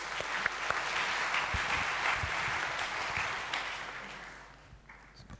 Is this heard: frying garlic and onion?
no